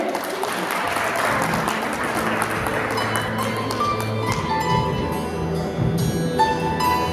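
Sustained audience applause fills a hall at a bridal beauty pageant as a contestant is introduced, a steady wash of clapping under music that carries on throughout.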